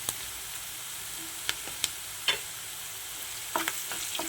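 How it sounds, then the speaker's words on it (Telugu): Turmeric and spices fry in a pan with a soft, even sizzle, punctuated by a few sharp scraping taps of a stirring utensil, no voices. "కొంచెం పసుపు వాసన వెళ్ళేంత వరకు కొద్దిసేపు వేయించుకుందాం"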